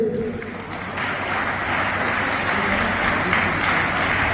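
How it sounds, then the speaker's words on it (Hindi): A crowd applauds a garland offering to a wrestling academy's coach at a gathering. The clapping is loud and continuous from many hands, preceded by a brief moment of murmur before it swells. "इसी माला अर्पण पे आप तालियां का स्वागत करें"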